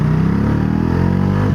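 Bajaj Dominar 400 motorcycle engine while riding, a loud, steady mid-pitched drone with a smooth, even tone held close throughout and no voices.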